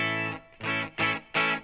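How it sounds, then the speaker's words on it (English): Clean electric guitar tone played through a Line 6 Helix with a clean amp model and EQ, four ringing strummed chords with sustained harmonics, close and alone, no talking. "So the clean sound sounds like this."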